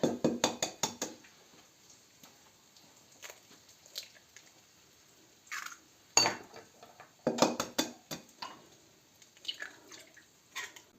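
Cottage cheese mixed with egg, semolina and sugar is mashed by hand, producing soft wet squelches and squishes in irregular close bursts separated by quiet pauses.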